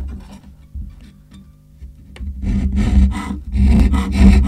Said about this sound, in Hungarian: És egy lombfűrésszel fogom kifűrészelni.